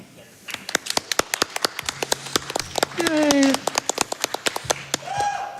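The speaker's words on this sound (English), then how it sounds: "You can clap for that." Live audience clapping at Summer Games Done Quick 2023 during a Dark Summit speedrun, with dense, steady claps that continue throughout, close and loud, and a voice briefly cheering over them midway.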